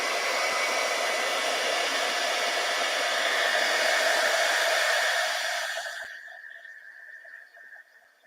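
A heat gun blows a steady, loud hiss as it melts white embossing powder on dark cardstock, then the roar drops away near the end, leaving a fainter tone.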